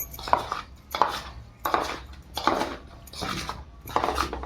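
A spoon stirring and scraping a hot mixture in a bowl for shankarpali dough, rhythmic clinks and scrapes repeating about once per second, close and moderately loud.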